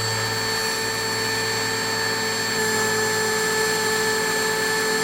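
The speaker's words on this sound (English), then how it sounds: "I found out that I actually have a hand belt sander." A hand belt sander grinds bevels into a metal blade, giving a steady, loud, unbroken motor whine with abrasive hiss throughout and no talk.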